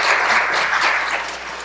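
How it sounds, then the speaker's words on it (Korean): Applause in a Korean church service for a missionary couple, a dense, steady wash of many hands clapping throughout, moderately loud and easing slightly toward the end. "박수 부탁드리겠습니다."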